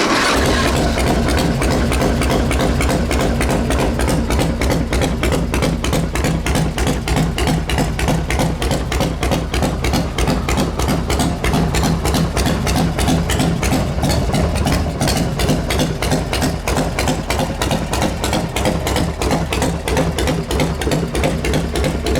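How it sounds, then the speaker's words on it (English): A custom motorcycle with a 2000 factory Harley-Davidson EVO motor idles steadily and loudly for over twenty seconds, its even, rapid pulsing thump close by with no talking. "We're gonna fire it up here."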